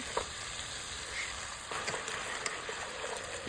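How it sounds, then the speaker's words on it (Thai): Mushrooms stir-fried in a pan with oyster sauce, sugar and light soy sauce give a steady, close sizzle with scattered soft clinks and scrapes from stirring throughout. "แล้วก็ผัดทุกอย่างให้เข้ากันดี"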